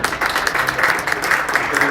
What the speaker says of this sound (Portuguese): Aplausos para o nosso irmão.